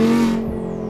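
In a driving simulator game with a modded car, heard from inside the insulated cabin, the engine drones with a steady harmonic tone, then the revs drop off abruptly within a second, close and loud.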